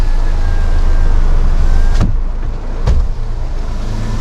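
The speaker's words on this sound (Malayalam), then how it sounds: "ഒന്ന് ഗ്ലാസ് താഴ്ത്തിട്ട് വീണ്ടും പൊക്കിക്കഴിഞ്ഞാൽ" A car's electric window motor whirs steadily as the glass lowers and rises during a rainy drive, with two short thumps as it stops, all over a loud, constant background rumble.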